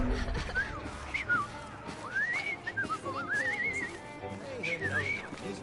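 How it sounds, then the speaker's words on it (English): A character in the Assassin's Creed Syndicate video game whistles a wavering, sliding tune in several short phrases, with game ambience and voices in the background. "I've just learned to whistle."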